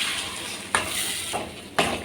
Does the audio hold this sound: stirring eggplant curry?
yes